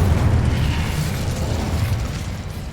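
A fire spell, Incendio, cast in the video game Hogwarts Legacy gives a loud, continuous roaring burst of flame that holds steady with a heavy low rumble for a few seconds, with no voices.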